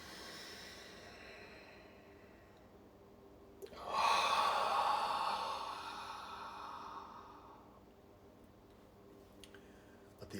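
A single deep breath drawn in during a guided meditation, starting about four seconds in, a soft airy inhale that swells and slowly fades, heard alone in a quiet room.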